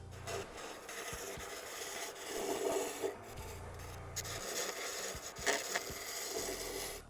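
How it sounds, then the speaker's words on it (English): A carbide skew-style tool with straight edges smooths a wooden workpiece spinning on a Jet lathe, giving a steady close scraping rasp with brief louder cuts and pauses under the motor hum, with no talk. "The next tool that I'm going to grab to smooth it out just a little bit more is the carbide equivalent to a skew tool."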